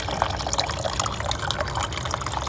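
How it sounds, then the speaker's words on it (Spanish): Water poured onto an echeveria plant in porous mineral substrate, splashing and trickling as it drains quickly, close and continuous with small drips, no talking. "El agua sale rápidamente al momento de nosotros regarla."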